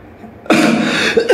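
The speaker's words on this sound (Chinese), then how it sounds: "不好意思，我一直咳嗽" A person coughs hard and close, a loud raspy burst followed by the start of a second one, with faint background noise before it.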